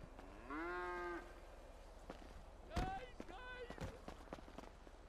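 A cow moos once, a drawn-out low call in the video game Rust, followed by sharp impacts and excited voices talking over the scene.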